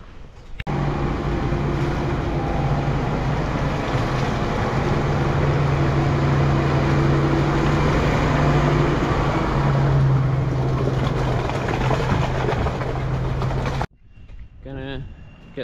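A farm vehicle's engine runs steadily and fairly loudly for over ten seconds with a low tonal hum while it is turned around and parked, then cuts off abruptly, leaving brief handling noises.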